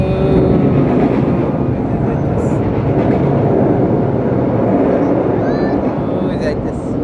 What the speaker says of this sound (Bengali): ওই যে ট্রেন আইতেছে আর একটা